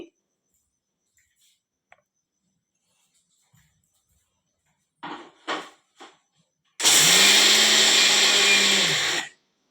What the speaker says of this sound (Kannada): ಸ್ವಲ್ಪ ನೀರು ಹಾಕೊಂಡು ನಾನು ಮಿಕ್ಸಿ ಮಾಡ್ಕೊಂಡು ಬರ್ತೇನೆ